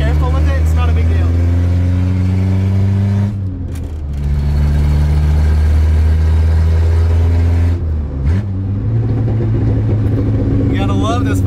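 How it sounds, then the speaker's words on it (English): Steady low exhaust drone from a lowered Toyota Corolla with blown front struts, cruising on back roads, with two brief dips where the note drops and pops before settling back into a loud, continuous burble. "You gotta love those fucking crackles."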